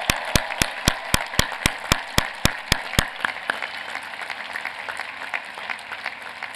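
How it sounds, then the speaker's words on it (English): An audience at a university commencement applauds award winners. A series of sharp, close claps in an even beat rings out over a broader round of applause, then the crisp claps drop away and the softer crowd clapping continues. "Please join me in applauding these outstanding young men and women."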